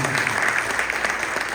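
A church congregation applauds with dense, sustained clapping that stays steady and fairly loud throughout, and a few voices can be heard under it.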